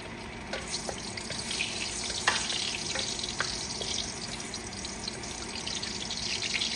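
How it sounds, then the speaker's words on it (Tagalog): Garlic sautés in a pan for chicken afritada, a fairly quiet steady sizzle with a few light clinks and scrapes of stirring, no one talking. "Una, maggigisa tayo ng bawang."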